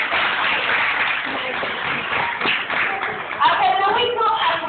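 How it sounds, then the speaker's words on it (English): An audience at a bird show claps in a dense, continuous burst of applause lasting several seconds, with voices talking over it. "I think he deserves a little round of applause."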